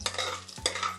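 Chana dal and red chillies fry in a pan with a close, steady sizzle and crackle, a brief scrape of stirring in the middle, all within one short moment.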